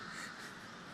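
A big flock of crows caws together in a dense, overlapping chorus, loud and constant across the short moment, with no talking.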